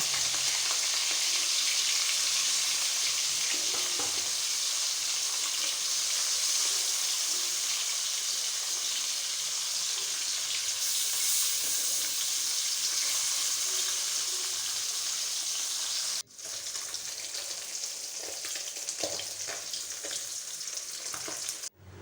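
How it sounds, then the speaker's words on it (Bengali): Marinated fish frying in hot oil in a kadai, a loud, continuous crackling sizzle that dips briefly then carries on close-up, with no talk. "তেল গরম হয়ে গেছে, এবার একে একে মাছগুলো আমি ভেজে নেব।"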